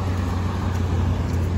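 A car passing on Kalakaua Avenue in Honolulu, Hawaii, a steady close rumble of engine and tyre noise from street traffic, heard alone.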